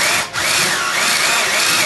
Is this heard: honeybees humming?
no